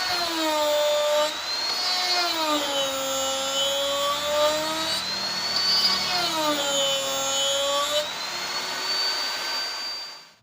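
A cheap bottle-style die grinder spins at 27,000 RPM with no speed regulator while grinding wood hard enough to scorch it. Its loud, close, continuous high whine dips and recovers in pitch under load, then cuts off at the end.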